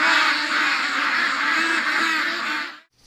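A group of ducks quacks loudly and continuously at close range on a winter morning, a dense overlapping chorus that cuts off abruptly near the end.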